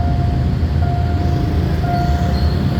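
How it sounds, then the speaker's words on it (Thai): An Airport Rail Link train at Makkasan station in Bangkok rumbles steadily, with a low continuous rolling drone, a faint thin tonal whine running through it, and no voices over the noise. "นี่เสียงแอร์พอร์ตลิง"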